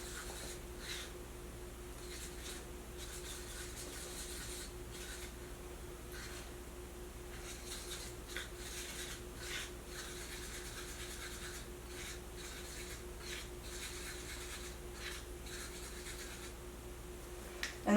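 Wooden stick scraping the sides of a plastic cup of resin while mixing in pigment, with soft, repeated rasping strokes at a steady pace over a faint steady hum.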